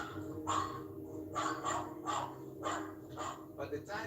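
Dogs barking in a series of sharp, fairly distant barks spaced about half a second to a second apart, with a low background hum underneath.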